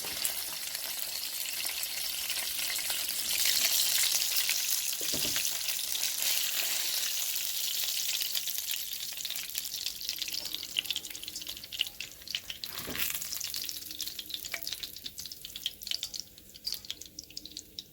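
Fish sizzles and fries steadily in hot oil in a pot while Jamaican brown stew fish is being made, a loud, continuous crackling hiss with small bubbling spits throughout.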